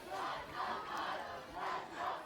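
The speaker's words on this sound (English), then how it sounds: "Both crowds getting into it right now. Who can cheer louder than the other?" Crowds of fans at a men's college soccer championship bracket final roar and chant in rising and falling waves, steady and loud across the stands.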